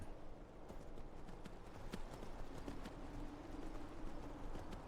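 A steed in the video game Skyrim clip-clops along with a steady, even rhythm of hoofbeats over a constant background bed, moderately loud and alone.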